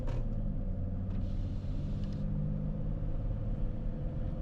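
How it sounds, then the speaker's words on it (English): Road traffic near Joseph City passing as a steady broad rumble of vehicles, fairly loud and continuous with a few faint brief sounds on top. "A lot of traffic on that road."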